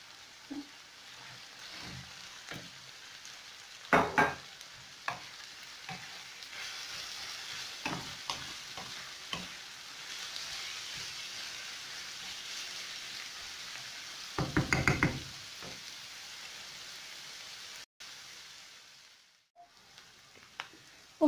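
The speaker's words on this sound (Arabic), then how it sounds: "من بعد ما تشحرنا الدجاج مع البصله" Chicken and onion frying in a pan with vegetables, a steady soft sizzle with occasional scraping stirs and a louder burst of stirring near the middle, with no voices.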